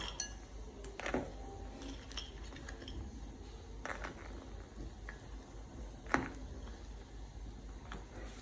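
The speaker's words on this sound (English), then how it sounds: "Now we have our crabs going in." Crabs are dropped one by one into a cooking pot, making faint clinks and knocks against the metal. Several soft clunks are spread out over a low background hum.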